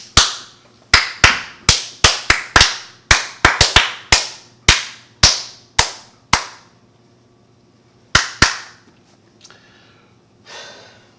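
Loud, sharp hand claps ring out close by on a podcast, about twenty in a fast, irregular run with brief gaps, then two more after a pause, followed by faint breathy noise.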